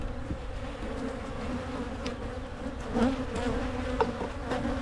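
Agitated honeybees swarm around an opened hive after syrup feeding, a dense, steady buzzing drone close by with individual bees zipping past, no voices.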